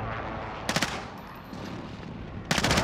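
Gunfire in Call of Duty: Modern Warfare comes as two short, loud bursts of rapid automatic shots over a rumbling background of battle noise, with no talking.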